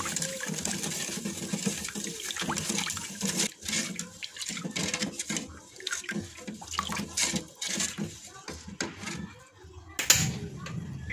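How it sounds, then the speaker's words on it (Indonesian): Water pours steadily into a pot of dry pudding jelly mix, followed by stirring, with continuous close splashing and a few sharper knocks, and no talk over it. "lalu tambahkan air sebanyak 900 ml. Setelah itu, aduk-aduk supaya bahan keringnya larut ke dalam air"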